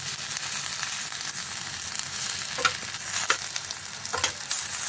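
Steady crackling sizzle of an egg frying in a pan, with a few scraping knocks as it is flipped over; no talking.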